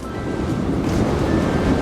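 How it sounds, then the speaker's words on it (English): A steady rush of wind blows across the microphone, a broad, rough whooshing with no voices. "Whoa, a little windy."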